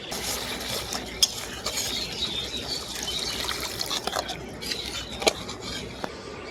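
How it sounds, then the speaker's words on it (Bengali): Water poured into a pan of frying spice masala for a fish curry, giving a steady hissing sizzle with soft trickling and occasional spoon or pan clinks, close and fairly quiet, with no voices. "এখন আমি এর মধ্যে পরিমাণ মতো জল দিয়ে দেবো"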